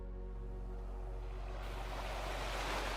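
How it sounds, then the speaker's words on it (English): Ocean waves wash in a steady, continuous surf in the Snowbreak video game, with a broad rushing wash over a low background hum, rising slightly toward the end and heard without talk. "As if in a trance, I seem to hear the sound of waves again."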